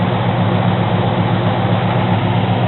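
A Ford F-150 pickup engine runs at a steady idle, a loud, close, continuous low rumble heard alone.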